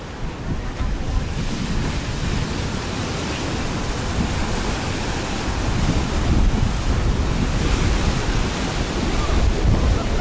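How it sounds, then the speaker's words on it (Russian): Heavy Mediterranean sea waves at Alanya, Turkey, roar and crash continuously, a dense broad wash of surf with strong wind buffeting the microphone throughout. "море и волны на море. Посмотрите, какая мощь!"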